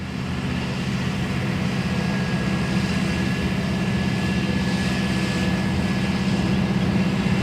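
A Cessna light aircraft engine runs at Gold Coast Airport, a steady droning hum that holds at an even level throughout with no talking.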